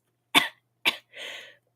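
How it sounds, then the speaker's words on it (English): Three separate coughs from a single nearby person, two sharp bursts about half a second apart and then a softer, rougher throat-clearing cough, each alone in a quiet room. "I'm trying not to cough, but it is a bit of a struggle."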